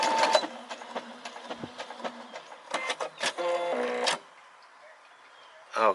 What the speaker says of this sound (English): I could hit the start stop button here, or to initiate the backup or tie off and scissor cutter, I have to hit this button right here.